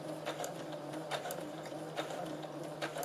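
A twin-needle sewing machine stitches steadily at a moderate pace, its motor hum and rapid needle clatter continuous and close, with a few slightly louder mechanical ticks along the way.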